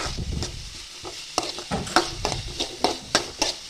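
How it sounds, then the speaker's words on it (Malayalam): Snake gourd, shallots and chillies sautéing in a pan: a soft sizzle under repeated quick scraping strokes of a spoon, an uneven clattering rhythm close to the microphone. "നമ്മുടെ പടവലങ്ങയും കൊച്ചുള്ളിയും മുളകൂടെ ഇവിടെ വഴറ്റിക്കൊണ്ടിരിക്കണം"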